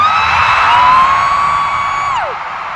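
A concert crowd at a show in Singapore Expo screams loudly and continuously, a sustained high shrieking roar. It fades slightly at the end.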